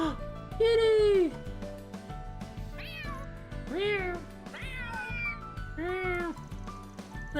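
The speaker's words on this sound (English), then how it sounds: "Kitty!" A cat meows in the video game Trails through Daybreak II, several distinct meows rising and falling, some long and some short, playing over game music with a voice talking alongside.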